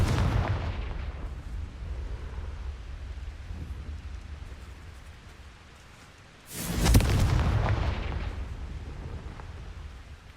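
A Confringo blast spell in Hogwarts Legacy lands as a sudden booming explosion with a heavy rumbling tail, rising out of a lower stretch of continuous game ambience.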